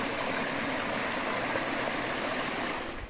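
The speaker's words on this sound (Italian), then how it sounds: "è il fiume Galantina." Italian mountain river, the Galantina, rushing steadily over a small ford along a forest trail; a dense, continuous close-up wash of flowing water that holds steady and eases off only at the very end.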